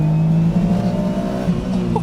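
A Mazdaspeed-tuned Autozam AZ-1 kei sports car revs up loudly and close in second gear, with a strong steady engine drone that climbs briefly and holds.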